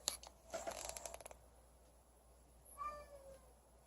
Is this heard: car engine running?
no